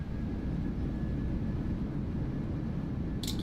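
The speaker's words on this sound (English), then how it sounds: "I guess I have to use reversers." Thrust reversers on a PMDG 737-800 in Microsoft Flight Simulator 2024 produce a steady, loud, broad roar with a deep rumble throughout, and a brief bright hiss or click burst near the end.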